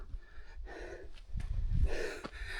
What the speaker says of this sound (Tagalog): Guys, todo hingal pa rin ako sa totoo lang.